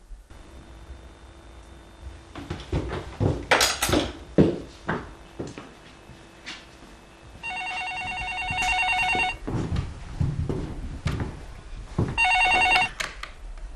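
A landline telephone in a Chinese family home rings in two clear bursts of repeated trilling, loud and close, following a stretch of argumentative talk and clattering household sounds.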